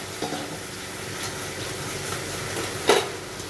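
Cauliflower and potatoes sizzle in a pan with a soft, steady frying hiss, a few light stirring scrapes and one sharper clatter near the end.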